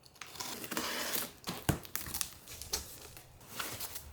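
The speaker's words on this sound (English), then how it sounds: "Let's get to unboxing." Packaging for Morimoto V2 XB LED headlights for a 10th-gen Honda Civic crinkles and rustles up close in repeated bursts as the box is unpacked, with no talking.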